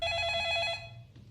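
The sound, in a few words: telephone ringing in the film The Ring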